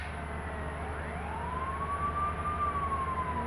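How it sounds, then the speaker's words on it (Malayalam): Ambulance siren in a bus simulator video game, a single smooth wail rising and holding steady over a constant low engine drone, moderately loud and alone without talk. "മുമ്പിലൊരു ആംബുലൻസ് ഉണ്ട്"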